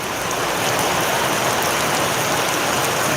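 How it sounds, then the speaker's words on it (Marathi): Heavy unseasonal rain pours steadily and loudly, a dense, unbroken hiss with no pauses near a temple fairground shed. "गेल्या चार पाच दिवसापासून पाऊस चालू आहे"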